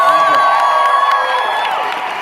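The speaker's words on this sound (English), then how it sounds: "We want to give a round of applause to Jorge for being with us." Crowd at a congress event cheering and whooping, loud and close with shrill sustained shouts and whistles over a thick wash of voices, fading slightly toward the end.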